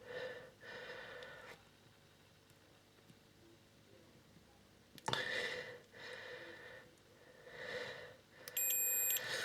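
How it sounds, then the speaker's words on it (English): Short electronic beeps from a multimeter continuity test on model railway decoder wiring, a couple of faint tonal chirps separated by quiet room sound and soft handling noises. "you can hear a beep"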